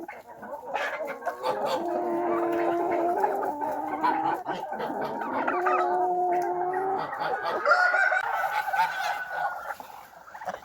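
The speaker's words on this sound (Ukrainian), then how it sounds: "Індики ось дивіться, як їдять. Індики хап-хап-хап-хап наїлися і погнали." Turkeys and other farmyard poultry eating, with loud close gobbling and clucking calls that overlap continuously alongside scattered pecking noises.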